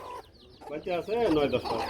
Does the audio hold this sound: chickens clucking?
yes